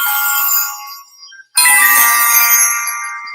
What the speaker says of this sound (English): That is my ringtone.